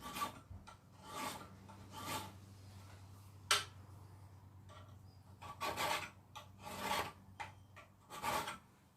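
A metal file rasps across a touch mark in a series of distinct swipes, sharp close strokes separated by short pauses, with no talking.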